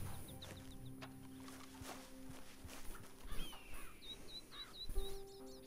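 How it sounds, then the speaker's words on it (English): Bald eagle calling in Red Dead Redemption 2: a run of short, high, repeated piping notes comes in bursts over game ambience, with footsteps, other birdsong and low hum underneath. "I heard that bald eagle."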